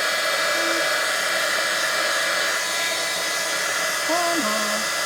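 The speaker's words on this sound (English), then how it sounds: "I should have actually warmed my heat tool up first." Heat embossing tool blowing hot air over stamped black card, a steady loud whooshing roar filling the whole stretch, with a faint voice briefly underneath near the end.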